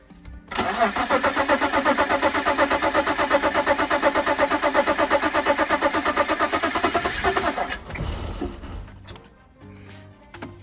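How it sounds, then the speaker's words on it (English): A BMW E34 Touring engine cranks and catches after an oil and fuel filter change, settling into a loud, steady close-up run for several seconds before the sound drops to a lower rumble near the end. "So I'm going to start it up now, let it go through the oil filter"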